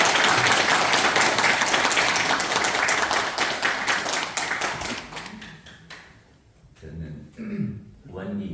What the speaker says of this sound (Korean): 다시 한번 박수 한번 보내드립니다